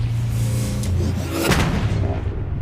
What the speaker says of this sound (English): the gun beneath him fires